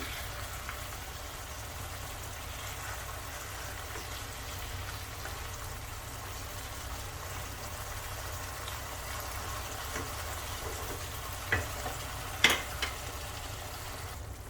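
Fenugreek fish cooking in a pan, a steady low sizzle and bubbling that runs throughout, with a couple of brief clinks near the end and no talking.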